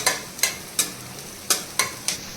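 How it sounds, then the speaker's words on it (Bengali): Chopped green chillies fry in a pan under a steady sizzle while a spatula scrapes through them in six sharp, evenly spaced stirring strokes, close up. "এর মধ্যে ভালো করে নেড়ে নিতে হবে আর একবার"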